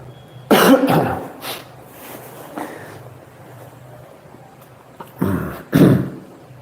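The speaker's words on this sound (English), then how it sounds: "I think it's the incense that are making me cough." A few harsh coughs, brought on by incense smoke, burst out close by, one pair near the start and another pair near the end, with quiet stretches between them.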